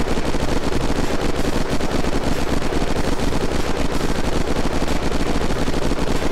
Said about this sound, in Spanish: Vamos a probar ahora a dispararle algo de metal.